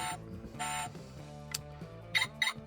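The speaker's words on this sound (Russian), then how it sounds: "Не снял с сигнализации" The alarm of a Lada car that was not disarmed sounds nearby as a repeating electronic beeping, several short tonal bursts in an uneven rhythm at moderate volume with no speech.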